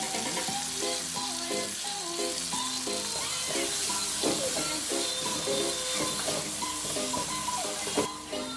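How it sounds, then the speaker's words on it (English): Onions frying in a pan for Jamaican seasoned rice, giving a steady close-up sizzle with scattered crackles and occasional scraping stirs. "my onions are fried, so I'm going to take it out"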